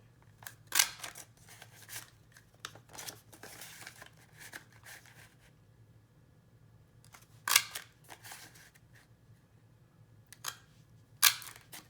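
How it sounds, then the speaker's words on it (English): Sharp, isolated clacks of a handheld edge punch stamping a decorative border into journal paper, a few separated snaps with quiet paper handling between them and no talking. "I will edge punch."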